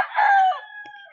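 A single rooster crows at a poultry farm, loud and close, the call rising and then trailing off in a drawn-out tail lasting about a second.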